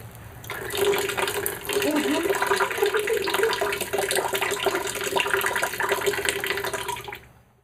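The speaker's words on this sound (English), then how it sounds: "you can just relax and breathe through your mouth as you're flushing out one side of the nose" Water from a neti pot streams steadily through one side of the nose and splashes into a sink, a continuous close rushing and trickling that lasts several seconds before stopping.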